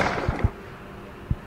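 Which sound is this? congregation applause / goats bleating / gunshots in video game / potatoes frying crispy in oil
gunshots in video game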